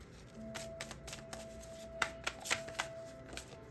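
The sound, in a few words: shuffling tarot cards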